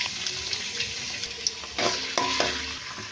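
Prawns being washed under a running tap in a kitchen sink, a steady rush of water with splashes and small clatters of handling, close and continuous.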